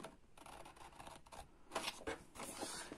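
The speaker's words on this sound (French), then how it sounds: "je vais, avec un grand ciseau, des grands ciseaux, on dit, découper celle-ci" Large scissors cut through card for a scrapbook album page, giving a few close, crisp snipping and rubbing strokes that come and go over a few seconds without any voices.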